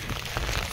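Rain falls steadily outdoors at a used-car dealership lot, making a dense, even patter and hiss on nearby surfaces. No one speaks.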